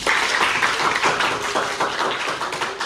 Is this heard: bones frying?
no